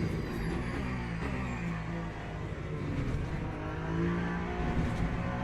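A racing car engine in the game Le Mans Ultimate hums and revs steadily, with a sustained tonal drone and mild rises in pitch that stay loud and close throughout.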